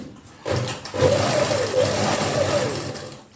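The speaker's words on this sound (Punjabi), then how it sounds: "ਪਹਿਲਾਂ ਆਪਾਂ ਇੱਥੇ ਸਿਲਾਈ ਲਾਉਣੀ ਹੈ ਵੱਡੇ ਬਫੇ ਨਾਲ" Sewing machine running a long basting stitch along fabric while sewing a round neckline, a steady close whirring hum that starts after a brief pause and continues evenly before tapering off.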